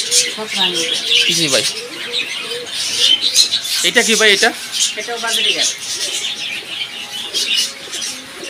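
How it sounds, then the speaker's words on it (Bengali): Domestic pigeons coo and chirp throughout amid lively chatter from several people at a bird shop in a village market. "এগুলা দেশি কবুতর"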